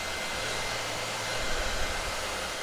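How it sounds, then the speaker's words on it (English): A hair dryer blows steadily and loudly on a painted craft piece, a single continuous whooshing drone with no talk. "Now that's nice and dry, thanks to the hairdryer."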